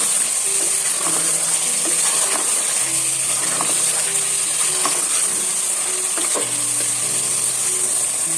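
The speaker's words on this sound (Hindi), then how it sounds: "लहसुन और अदरक के पेस्ट के साथ मैंने मटन को अच्छी तरह से फ्राई कर लिया है।" Mutton fries in ginger garlic paste with a loud, constant sizzle, punctuated by occasional scrapes and taps of stirring, close up and with no voices.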